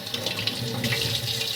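Hot water runs steadily from a tap into a sink for rinsing the dust bin of a bagless vacuum, a continuous close, even hiss and splash with no pauses.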